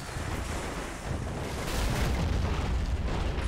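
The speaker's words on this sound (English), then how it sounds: "And here comes the mortars again." Mortar shells explode in the WWII strategy game Men of War: Assault during a fortress defense, deep rumbling booms rolling continuously and growing louder, with no speech.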